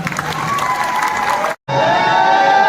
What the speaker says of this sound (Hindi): सारा लिए भी एक बारी जोरदार ताली